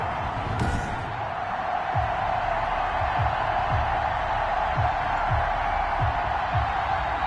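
A stadium crowd at an Arizona Cardinals vs Seattle Seahawks football game makes a steady, dense roar throughout, with a regular series of dull thumps underneath.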